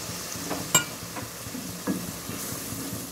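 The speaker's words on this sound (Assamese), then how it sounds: "পানীটো দি অকণমান লৰাই লওঁ" Paneer curry is stirred in a pan just after water is added, a soft sizzle running underneath with a few sharp spoon scrapes and clinks standing out near the mic.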